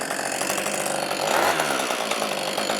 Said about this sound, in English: Chain doesn't turn at idle and accelerates without hesitation.